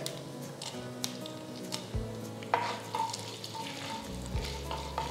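Mustard and cumin seeds sizzle in hot oil in a pan, giving a steady close frying hiss with scattered crackles and pops throughout.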